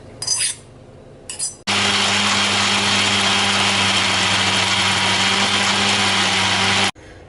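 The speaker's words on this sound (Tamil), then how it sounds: "இதை நல்லா நைஸா ஆட்டி எடுத்துப்போம்." Mixer grinder blending boiled dried red chillies into paste: a few brief clattering bursts, then a loud steady whirring motor hum running for several seconds before cutting off abruptly.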